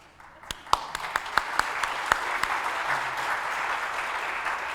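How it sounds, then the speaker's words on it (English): A few sharp individual claps quickly swell into sustained applause from a crowd at a book awards ceremony, steady and moderately loud. "I think we should have another round of applause for a job well done"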